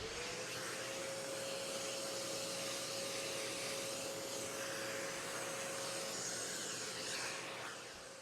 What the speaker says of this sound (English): so I'm going to vacuum them up now.